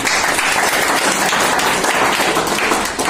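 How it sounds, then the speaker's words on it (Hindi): Dense, loud applause from an audience at a company gathering honouring its managing director, sustained and even throughout without a break. "आप सबके लिए तालियां होनी चाहिए"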